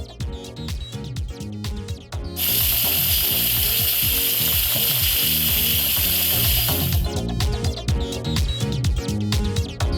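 An Instant Pot venting its pressure after cooking pork adobo: a loud, steady steam hiss that starts suddenly and runs about four and a half seconds over rhythmic background music.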